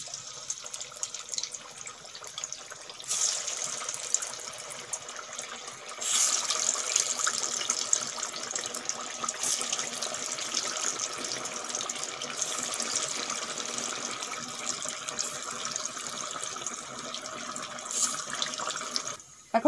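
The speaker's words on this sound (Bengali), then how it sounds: "তেল ভালোভাবে গরম হয়ে গেছে। এখন আমি কাবাব টিকিয়াগুলো ভেজে নেব।" Masoor dal kebab tikkis frying in hot oil, a steady close hiss and sizzle that grows fuller partway through and runs continuously without talk.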